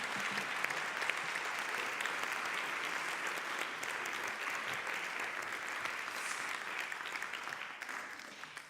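Sustained applause from a concert hall audience at a dialogue event in Vienna, thick and even clapping from many hands that carries on for several seconds before easing slightly near the end.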